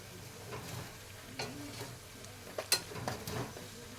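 Onions frying in a pan for a kabuli chhole curry, stirred with a few scraping strokes and light clinks over a faint, low sizzle; quiet and close, with no talking.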